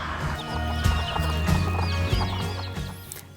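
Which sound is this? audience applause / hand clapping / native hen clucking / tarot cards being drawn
native hen clucking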